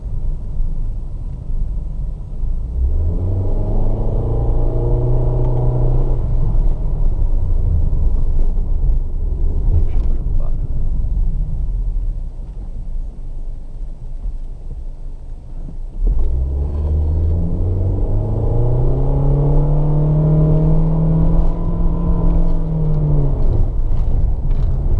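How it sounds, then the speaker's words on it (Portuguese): Onboard a Honda Fit 1.5 CVT, the engine rumbles steadily and then climbs in a smooth droning pitch rise under acceleration, settles back, and rises again in a second long sweep. "Queria tentar pelo menos dar uma aceleradinha."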